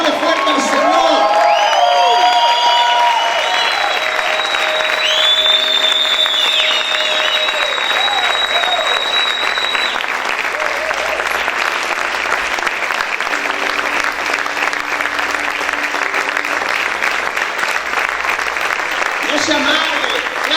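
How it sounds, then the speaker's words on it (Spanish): A church congregation claps and shouts loudly in worship, a sustained roar of applause with cheers and whoops, while a voice rises over the crowd at the start. "Grita y aplaude fuerte al Señor"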